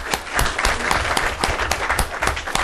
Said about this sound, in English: applause for these wonderful people.